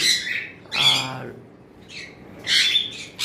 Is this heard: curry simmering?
no